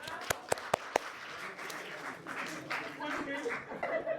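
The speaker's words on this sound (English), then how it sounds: "let's give him a big clap" A small audience applauds a participant at a lecture gathering: a few sharp claps at first, then a scattered clatter of hands mixed with chatter and light laughter in a room.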